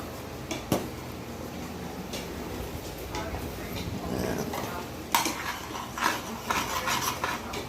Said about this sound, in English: Stir it up, make sure nothing's sticky, make sure it's all cheesy.